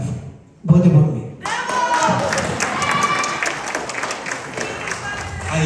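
An audience at a debate bursts into sustained applause after a brief opening sound, dense clapping that holds steady and fairly close for several seconds, with voices mixed in.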